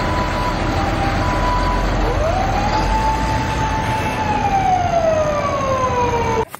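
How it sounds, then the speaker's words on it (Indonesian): A toy fire truck siren wails in long rising and falling electronic tones over steady noise, loud and close, before it stops abruptly at the end. "Wow, mantap sekali ini ya mobil pemadam kebakaran nih."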